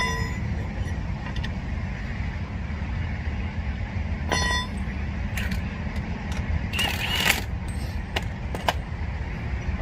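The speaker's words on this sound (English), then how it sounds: "take your lug wrench and tighten them in." A lug wrench tightens wheel lug nuts on a Toyota RAV4 during a flat-tire change, giving sharp metallic clicks and clanks over a low steady rumble, with a brief jangling burst in the middle.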